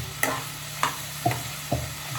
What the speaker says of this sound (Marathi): आता आपण कांदा हे करू, फ्राय नाही स्टर करू